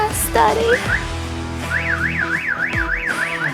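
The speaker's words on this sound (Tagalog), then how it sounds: "yung lock, unlock, and alarm niya" A 2014 Mitsubishi Mirage GLX automatic with keyless entry gives a short lock and unlock chirp, then its alarm starts a loud, rapid rising-and-falling siren warble that repeats close by.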